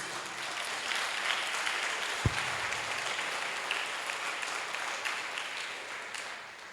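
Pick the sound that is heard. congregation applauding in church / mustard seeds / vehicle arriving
congregation applauding in church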